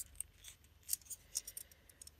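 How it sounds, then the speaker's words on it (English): Scissors cut pieces of hot foil with a handful of quick, faint snips in a quiet room. "So I'm just going to now cut some pieces of my foil."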